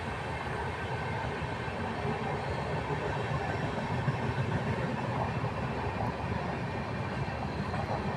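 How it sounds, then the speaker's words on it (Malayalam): A train rolls past near a house in Kerala, a loud, steady rumble of wheels and carriages that fills the air without a break. "അപ്പൊ കണ്ടല്ലോ ട്രെയിൻ പോകുന്നത്."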